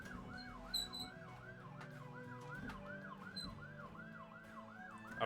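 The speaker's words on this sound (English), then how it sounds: "oh, there's a police car outside" A police car siren passing outside a closed window, rising and falling in a fast regular yelp that cycles steadily, moderately loud and muffled indoors, with no one speaking.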